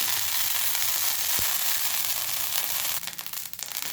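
Loud, steady sizzling of oil and water on a hot iron tava for thalipeeth, a broad hiss with a brief clatter partway through and crackling near the end.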